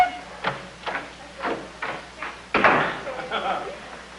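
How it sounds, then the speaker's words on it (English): On a 1950s television sitcom set, a series of sharp knocks and thuds leads into a door opening with a louder clunk, while voices are heard nearby. "Open the door."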